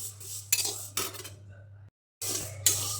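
Metal spoon scrapes and clinks against a pan while vermicelli is dry-roasted and stirred, several quick bursts of scraping with a brief silent gap in between.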